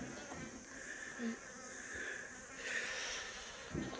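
Honey bees buzz faintly around beehives at an apiary during a sunflower transhumance, a soft, continuous hum with a few louder passes close by.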